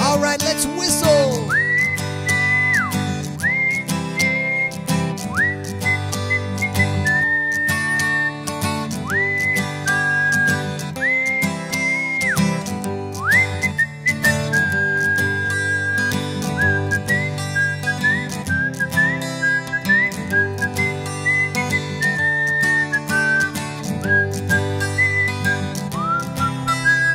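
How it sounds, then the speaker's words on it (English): Cheerful song tune whistled melodically in phrases over steady backing music with a rhythmic beat, loud and continuous throughout. "All right, let's whistle."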